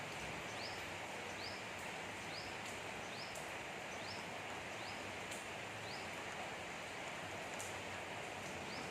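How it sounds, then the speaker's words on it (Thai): Steady rain falls outdoors, a dense even hiss that runs throughout with no pauses, while faint repeated bird chirps sound in the background. "ฝนก็เริ่มที่บางๆลงแล้วครับ"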